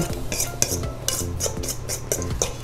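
Roughly mashed chickpeas being stirred in a bowl for a vegan chickpea salad, with a utensil scraping and knocking against the bowl in a steady, repeated rhythm of close, clattering strokes.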